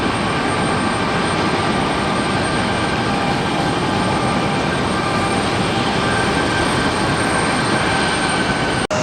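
A JetBlue Airbus A320 jet at LaGuardia airport during a heavy rainstorm gives a loud, steady, unbroken engine roar that holds level throughout.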